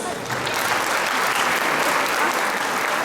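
Crowd at a Caucasian cultural association's season finale show in Kayseri clapping in a loud, sustained, even roar of many hands for the whole stretch.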